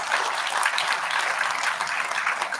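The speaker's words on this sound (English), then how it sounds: "That is a big round of applause." A Teachers Day celebration audience gives a big round of applause, a brief, dense burst of many hands clapping steadily from start to finish without a voice over it.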